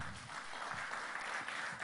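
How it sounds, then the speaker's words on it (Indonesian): A church congregation claps together in a fairly quiet, even patter of applause that carries on with no voices over it. "Tepuk tangan bagi Allah kita"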